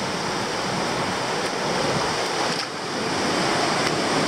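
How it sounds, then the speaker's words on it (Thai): A waterfall near Nyuto Onsen, a hot-spring area, roars in a loud, steady broadband rush with no pauses and no voices. "ไปมีน้ำตกด้วย"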